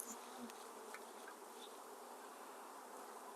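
Honeybees buzzing steadily around an open hive while two nucs are installed into 8-frame hives, a soft, continuous hum close by with faint individual bees flying past.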